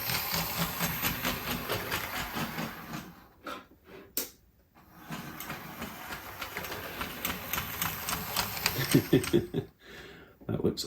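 A small On30 model steam locomotive with a big crack in its gear runs roughly, giving a rattling, uneven mechanical chatter with brief dropouts, close to the ear.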